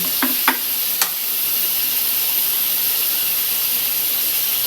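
Green chili sizzling in a pan with chicken, a steady loud hiss of frying with a couple of quick stirring clinks near the start, alone without talk.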